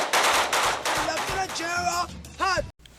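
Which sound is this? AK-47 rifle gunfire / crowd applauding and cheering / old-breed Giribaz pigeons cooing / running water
AK-47 rifle gunfire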